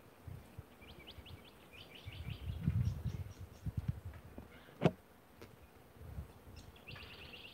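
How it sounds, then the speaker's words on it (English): Faint buzzing of bees drifts through a quiet outdoor scene, joined by brief bird chirps and a single sharp knock midway. "Here are the beautiful bees."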